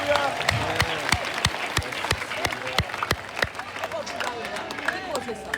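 A church congregation claps together in a steady, rhythmic beat, many hands striking in time at close range, with voices and a murmur of the crowd underneath.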